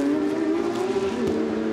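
Porsche GT3 race cars at the Trois-Rivières Grand Prix give a sustained, tonal engine howl that shifts pitch as they race past, heard from a moderate distance with no talk over it.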